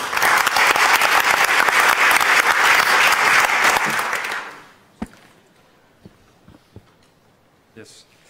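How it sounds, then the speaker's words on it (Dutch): Audience applause in a full hall for speaker Sebastiaan Aals at an Amsterdam city talk on craftsmanship, loud and dense for about four seconds before fading out, followed by a few scattered claps and small knocks in near silence. "Dus geef hem een applaus aan Sebastiaan Aals."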